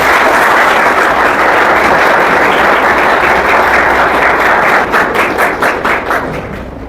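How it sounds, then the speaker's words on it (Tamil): Loud, close applause from an assembly honoring a guru at a college gathering, a thick continuous roar of clapping that thins into a few distinct claps as it tapers off. "குருநாதருக்கு மீண்டும் ஒரு முறை நல்ல கரகோஷம் செய்து நம்முடைய நன்றிகளை காணிக்கிறார்கள்"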